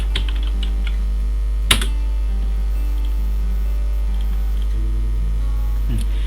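Someone types a search keyword on a computer keyboard, with light, scattered key clicks over a steady mains hum, one sharper click near the start, and no clear talking.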